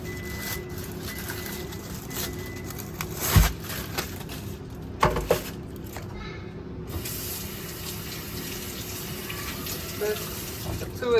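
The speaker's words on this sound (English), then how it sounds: "Rinse them off." Tap water running over celery stalks in a kitchen sink, a steady continuous splash with a couple of brief clunks as the stalks are handled.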